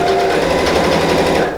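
A sewing machine stitches around the flap of a fabric wallet, running steadily and close for the whole stretch before easing off at the very end, with no talking.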